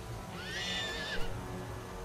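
A horse-like creature in the game Starbound whinnies once, a rising then falling neigh lasting about a second over steady game background noise.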